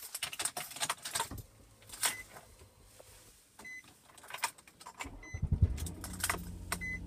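A 2007 Nissan Murano starting up: keys rattle and clicks sound inside the cabin, then the engine cranks and catches with a low rumble near the end, heard close with no talk.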